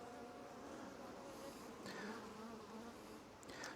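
Honeybees buzz in a steady, dense drone around an open hive being inspected, with faint higher insect whines passing close now and then.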